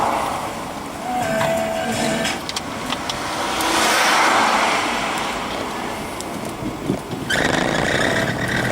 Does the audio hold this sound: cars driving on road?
yes